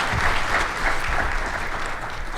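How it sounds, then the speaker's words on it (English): Full, continuous applause from an audience honoring a panel at an education forum, dense and fairly loud with faint low rumbling beneath it. "Let's give this panel a round of applause as they transition off"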